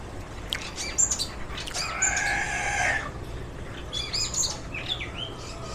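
Birds chirp and call outdoors, with a rooster crowing loudly in the middle among shorter tweets and clucks.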